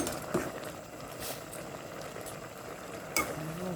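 Thai fish curry simmers in a pot with a soft, steady bubbling and hiss, quiet and close, broken by a couple of brief utensil clinks.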